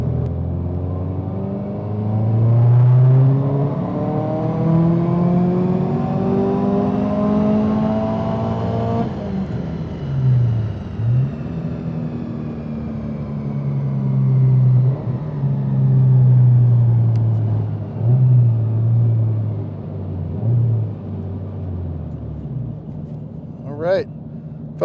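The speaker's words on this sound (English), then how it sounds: "we're getting ready to do a dyno pull on E85 with the new turbo, new injectors, new Access Sport V3" Subaru STI with new turbo, injectors and Access Sport V3 running on E85 during a dyno pull, engine revving loudly and steadily through rising harmonics, dropping briefly and climbing again, with brief talk over it.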